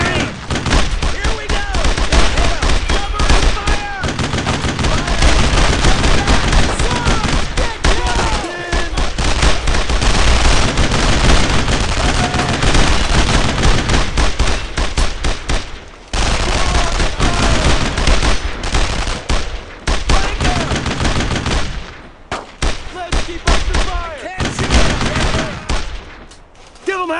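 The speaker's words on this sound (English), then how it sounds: "Fire that MG!" Machine-gun fire in the World War II shooter Brothers in Arms: Road to Hill 30, heavy and continuous bursts of automatic fire mixed with rifle shots, loud and near, with brief lulls and occasional shouted voices.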